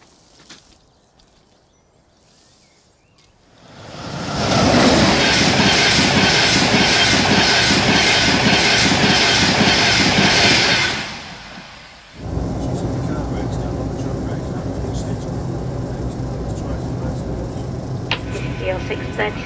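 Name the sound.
Northern train running on the tracks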